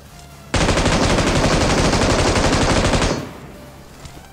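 Rapid sustained automatic gunfire from a battle royale video game, loud and close, a continuous burst lasting a few seconds before cutting off into quiet.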